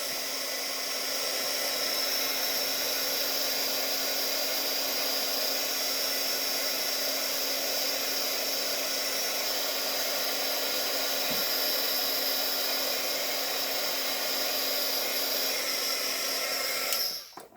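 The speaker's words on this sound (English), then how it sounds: "Now I'm going to set this with the heat gun again." A heat gun setting embossing powder on a paper craft card runs as a steady, loud, close airy whir, holding constant for the whole stretch before clicking off at the end.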